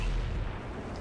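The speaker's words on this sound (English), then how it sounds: "And I take my shot and back off." A single heavy cannon shot from an M103 heavy tank in World of Tanks lands as a deep, booming blast that rolls off into a low rumble, loud and alone with no talk over it.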